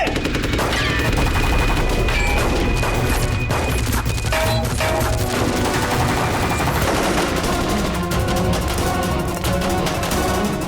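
Loud, rapid bursts of gunfire and crashing impacts ring out continuously over dramatic background music in a Hindi TV crime-horror serial.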